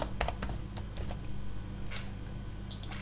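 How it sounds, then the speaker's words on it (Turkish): Light clicking taps on a computer keyboard, irregular keystrokes in small clusters against a quiet, steady hum. "Hemen yazıyorum."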